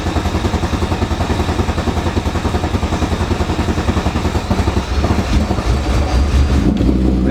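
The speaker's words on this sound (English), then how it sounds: "Probably gonna take us a try or two to start the car until the fuel pressure builds back up." Car engine cranking and starting just after a fuel filter change, a steady rapid rhythmic chugging that stays loud and close throughout, shifting slightly in tone near the end as it catches.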